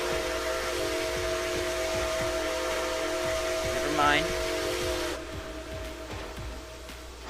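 Steam locomotive whistle with a Nathan 6 chime, Nickel Plate 765, sustained and fairly loud as a steady multi-tone blast for about five seconds, then cutting off, followed by a short spoken remark over lingering background noise.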